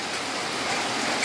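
Rain falls in a steady, even hiss of broadband patter with no breaks over the short stretch.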